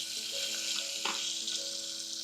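Curry leaves sizzling in hot oil for a tempering: a steady crackling hiss with one brief louder burst of spitting partway through, close and alone with no voices.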